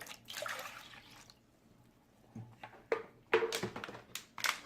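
Water dumped out of a container during an iodine demonstration, heard as bursts of splashing and sloshing that come and go over a few seconds, close by and moderately loud.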